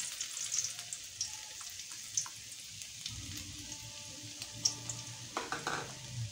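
Ginger garlic paste frying in hot coconut oil gives a steady, close sizzle and hiss, with light clinks of a spoon against the pan and no talking.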